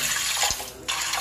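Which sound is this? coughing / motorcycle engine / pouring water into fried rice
pouring water into fried rice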